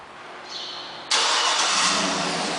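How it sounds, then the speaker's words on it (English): A 2008 GMC Yukon Denali starts by remote start: a brief electronic cue, then the engine cranks and catches abruptly, settling into a steady, fairly loud idle close by with no talk. "And the car turns right on."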